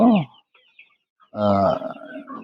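Chickens on a poultry farm give short clucking calls, one burst at the start and a longer, louder run of clucks later, with a quiet gap between.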